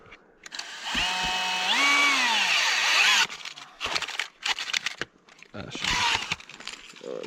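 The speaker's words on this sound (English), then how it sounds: "They're struggling with that drill." A power drill whines loudly in a sustained burst that rises in pitch, then stutters in short on-off bursts, with faint voices nearby.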